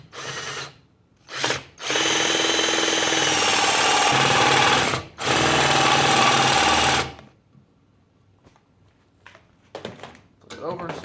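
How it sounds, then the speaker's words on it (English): A drill bores a 1¼ inch hole, with two brief starts and then a long, loud, steady whine broken by one short pause, ending in faint clicks and light handling noise. "drill an 1¼ inch hole."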